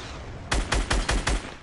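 A quick burst of five evenly spaced gunshots in Fortnite, the headshot volley sharp and close, cracking out in a steady rhythm with nothing else around them.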